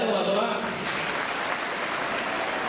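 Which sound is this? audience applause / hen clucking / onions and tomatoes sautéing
audience applause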